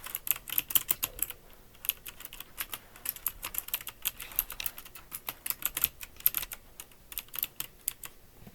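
Steady typing on a computer keyboard, a close run of light, irregular keystroke clicks with brief pauses, heard alone without talk.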